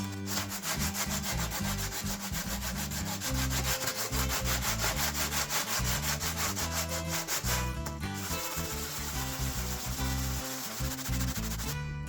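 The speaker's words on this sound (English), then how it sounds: "let's just scuff this up. Just with a bit of 60 grit sandpaper." A surface on a Nismo R34 Skyline build is scuffed with 60 grit sandpaper, a close, continuous rasping rub of quick back-and-forth strokes with one brief pause.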